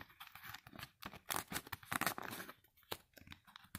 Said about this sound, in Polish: otwieramy kalendarz adwentowy, szukamy dwójeczki